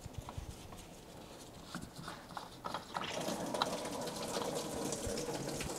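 Coolant drains from a BMW E9x cooling system after a hose comes off, starting as soft drips and scattered taps and then turning into a steady, louder trickling flow. The sound is close and has no speech over it.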